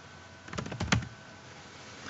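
Quick typing on a computer keyboard produces a short flurry of light, close key clicks, about six taps in under half a second, against a quiet background.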